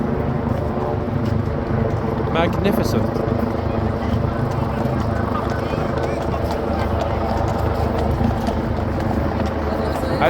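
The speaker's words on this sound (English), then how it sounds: "They're Met horses." Hooves of Metropolitan Police horses clip-clop on a London street on Armistice Day, steady and fairly close beneath a loud wash of traffic and crowd noise, while someone speaks briefly.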